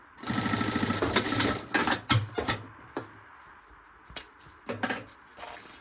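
A sewing machine stitches the finish of a fabric bag using scrap fabric, giving a fast close rattle for a few seconds, then a couple of brief stop-start bursts.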